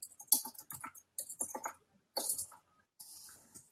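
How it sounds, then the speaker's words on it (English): Computer keyboard typing in bursts of quick, fairly close clicks separated by short pauses, with no talking. "So I'm just typing to him, everyone."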